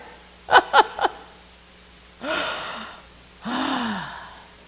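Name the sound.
deep breath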